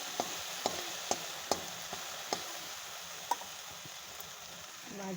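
Fish pieces going into a pan of frying vegetables: a soft steady sizzle broken by several sharp clicks and taps of pieces and utensil against the pan, ending in a brief scrape.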